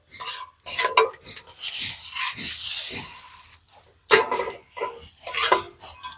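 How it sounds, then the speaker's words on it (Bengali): Puffed rice (khoi) stirred into melted jaggery to make Joynagar moa, with dry crunchy rustling and scraping of the mixing utensil in bursts separated by brief pauses, close and clear. "অল্প অল্প করে খই দেব আর মেশাতে থাকবো"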